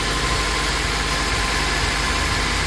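A 2003 Honda Element with a 2.4-litre engine and AWD that has been running hot sits running, giving a steady, close, even rumble that holds without change.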